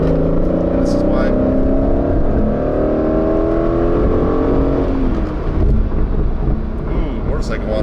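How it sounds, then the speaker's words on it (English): Steady low rumble of highway road noise inside a moving car, with engine drone and tire hum throughout, and a voice speaking over it. "you can probably hear some road noise"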